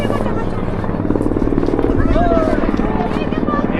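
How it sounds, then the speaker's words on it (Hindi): A surveillance helicopter circles overhead, its steady rotor thrum and engine drone filling the background continuously, with a crowd of voices talking over it. "वो ऊपर हेलीकॉप्टर घूम रहा निगरानी के लिए"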